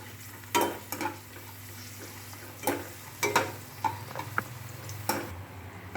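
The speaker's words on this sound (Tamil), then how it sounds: "இது இப்போ சிம்மில் தான் வச்சு ஃப்ரை பண்ணி எடுக்கணும், இல்லைன்னா கரிஞ்சிரும்." Raisins frying in a pan over a low flame, with soft steady sizzling and a few sharp stirring clicks and scrapes at irregular intervals, close and moderately loud with no talking.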